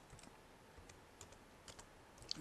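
Faint keystrokes on a computer keyboard, scattered light taps over about two seconds, quiet against a low steady background hiss.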